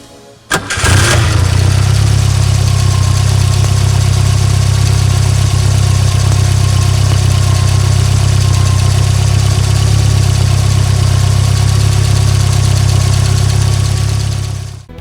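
A 1979 Puma GTS 1600 fitted with a Volkswagen Passat 1.6 AP engine cranks and fires up, then settles into a loud, close, steady rumbling idle that holds until it cuts off at the end.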